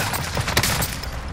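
Dense, rapid gunfire in a multiplayer shooter video game, a loud continuous burst of overlapping shots filling the whole moment with no talk.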